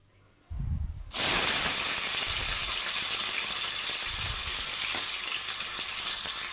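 Green chillies and tomato hit hot oil with a sudden loud sizzle that settles into a steady, close, bright frying hiss, with a few faint knocks underneath and no talking.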